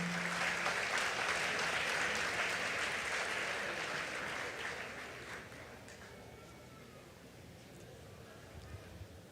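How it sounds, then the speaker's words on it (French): A church congregation at an annual convention in Les Cayes applauds a reverend pastor, loud sustained clapping from a large crowd that gradually fades and thins out toward the end. "Sur vos applaudissements,"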